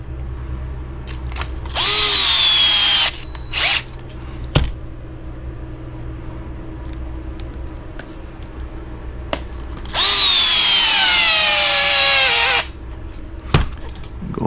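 A power tool drives screws into the skid plate of an HB Racing E819RS RC car in two loud, close bursts of whirring, with pitch shifts and short gaps between them.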